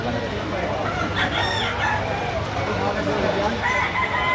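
A young rooster (stag) crows amid the din of a rainy Lipa City, Batangas chicken market, its call rising over steady crowd noise and other birds, with people talking throughout.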